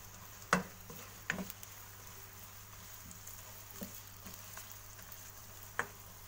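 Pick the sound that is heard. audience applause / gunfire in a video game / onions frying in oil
onions frying in oil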